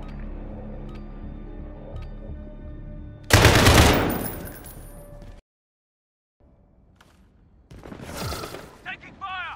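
Gunfire in a Call of Duty: Modern Warfare 2v2 match: a loud, sustained burst of rapid shots, then a short silence before another burst, with voices talking around them.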